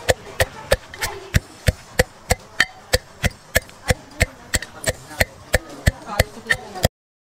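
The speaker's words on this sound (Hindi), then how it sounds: "इन सबको जो है मैंने कूट लिया है इस वाले मामजिस्ते में ही" Dry fruits being pounded coarsely in a mortar and pestle for Holi gujiya, a steady run of about twenty sharp, evenly spaced thuds, close and loud, stopping abruptly at the end.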